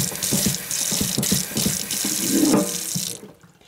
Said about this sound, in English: I'll just water that in.